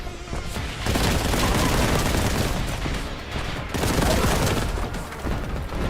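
A crack grenade blast and bursts of gunfire in the Warhammer 40,000 shooter Boltgun, loud and dense, with continuous booming and rapid shots filling the whole stretch and no talk over it.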